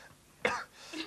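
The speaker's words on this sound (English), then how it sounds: "I'm going to have to finish actually because I'm getting a bit of a cough" A single short, harsh cough, rough and throaty like a throat clearing, bursts out close to the microphone on a breakfast TV show, then fades into a quiet room.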